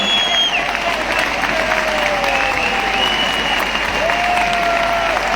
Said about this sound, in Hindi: खड़े होकर अपनी अपनी अपलाइन के लिए दिल से तालियां कीजिए